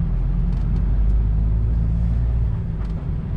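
A truck drives along Maskavas Street in Riga toward Ķengarags, giving a continuous loud low engine and road rumble heard from inside the cab.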